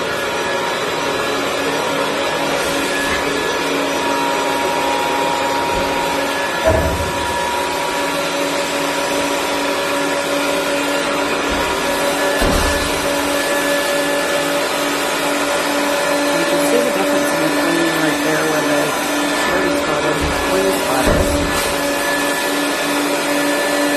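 A professional carpet cleaning machine runs continuously on a dirty carpet, a loud steady whine and hum with a few soft thumps as it works, and nobody talks.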